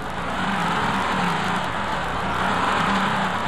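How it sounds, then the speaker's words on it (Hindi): A car pulling away, a continuous steady engine rumble with road noise, close and loud for a few seconds without speech. "गाड़ी निकल गई"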